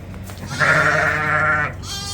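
A lamb on a sheep farm gives one long, loud, wavering bleat close by, with quieter background noise before and after and no talking.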